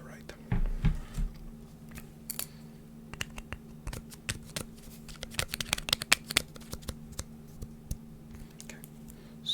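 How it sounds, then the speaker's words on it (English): A pen scratches and taps across paper on a clipboard up close, quiet irregular strokes and clicks in an intimate setting, with soft whispered speech heard in places. "You know what a clipboard is and a pen, so this is what I'm going to be using to write."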